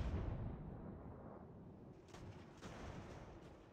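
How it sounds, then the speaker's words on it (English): Mortars firing on a battlefield in the strategy game Ultimate General: American Revolution, heard as dull distant booms over a continuous rumbling background, fairly faint. "our mortars are already firing at the enemy"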